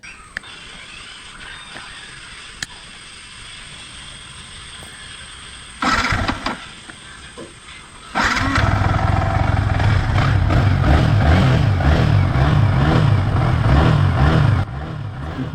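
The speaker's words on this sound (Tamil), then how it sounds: "சுவிட்சை ஆன் பண்ணிவிட்டு வண்டி ஸ்டார்ட் பண்ணி பார்த்தேன் வண்டி ஸ்டார்ட் ஆகிடுச்சுங்க" Yamaha R15 V3 motorcycle engine starting: a brief mechanical burst near the six-second mark, then from about eight seconds the engine catches and runs loud and steady at close range, settling slightly near the end.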